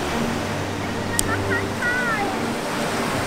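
Steady, broad roar of surf with waves crashing close by, constant throughout, with faint voices and a brief whistle-like sound mixed in.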